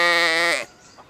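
A single sheep bleat, loud and close, with a wavering tone that cuts off sharply after about half a second, followed by a brief faint noise.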